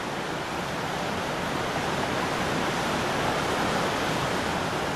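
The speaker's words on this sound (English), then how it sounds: "yesterday's downpour has turned the Scrong into a raging torrent" A loud, steady rush of heavy water, the Scrong River in flood after a downpour, a dense continuous roar in full torrent, with no letup.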